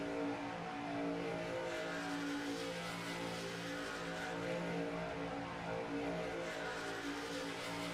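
Racing truck engines drafting in a pack in iRacing at Talladega, Alabama, a steady, dense, loud drone of many engines holding a constant high pitch with no talk.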